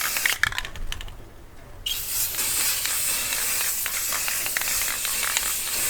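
Spray paint hisses steadily as a final black coat goes onto car wheels, a close, continuous airy spray after a few brief clicks at the start.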